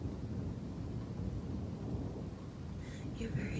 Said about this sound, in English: Little bit of thunder.